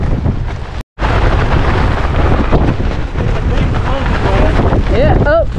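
Strong wind buffets a fishing boat out at sea in rough Bermuda weather, a loud continuous roar broken by one brief dropout, with voices and shouts rising near the end.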